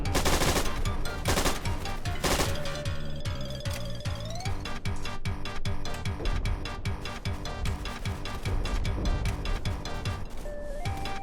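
Rapid bursts of automatic gunfire in an online shooter game, loud and dense, with overlapping shots, fast rattling volleys and some metallic pings throughout.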